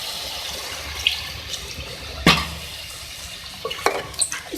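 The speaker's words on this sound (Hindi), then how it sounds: "हम पानी ऐड करेंगे 2 कप।" Two cups of water poured into a pan of chicken curry, a splashing rush with a sharp burst of liquid in the middle and a few smaller splashes and clinks near the end, no voices.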